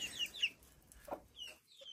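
Well-grown chicks on a farm cluck and cheep in short, scattered calls, faint and fairly close, with quiet gaps between them and no talk.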